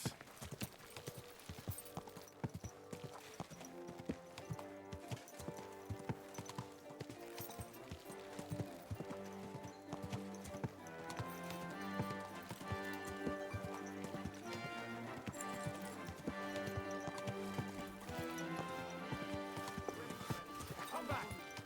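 Horse hooves clip-clop in a rapid, steady rhythm in the medieval video game Kingdom Come: Deliverance II, running under game music with occasional voices.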